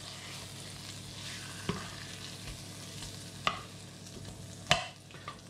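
Steak frying in butter in a pan, giving a steady, even sizzle throughout with a few sharp clicks and taps of utensils.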